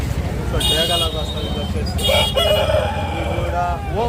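Roosters crow at a poultry market in Nellore, several drawn-out cock-a-doodle-doo calls in succession, loud and close over a steady market hubbub and clucking, with people talking nearby.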